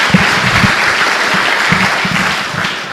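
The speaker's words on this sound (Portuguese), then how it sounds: "Dê uma salva de palmas a Jesus." A church congregation applauds steadily in a broad wash of clapping that fills the whole stretch, with faint murmurs beneath.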